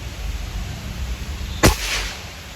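A single sharp shot from a Bocap Xtra Big Bengal PCP air rifle, a long-range unit with plenum and regulator, fired at a target, a brief crisp crack standing out against quiet outdoor background hiss.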